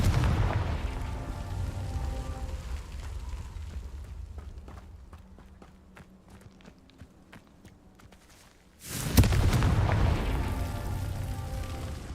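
Confringo spell explosion in Hogwarts Legacy, rumbling blast noise that dies down to quieter ticking steps, then a sudden loud explosion bursts in near the end and roars on.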